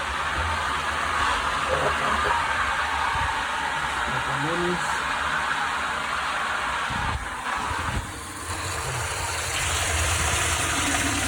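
A well pump drones steadily, a constant low engine-like hum with a rushing wash over it, briefly dipping before resuming.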